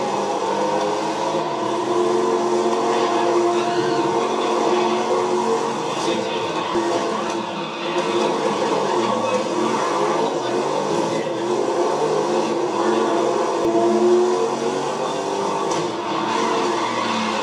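Racing cars in a Google Stadia racing video game drone steadily through the whole stretch, a dense continuous engine roar with shifting pitch, heard under a voice that talks throughout.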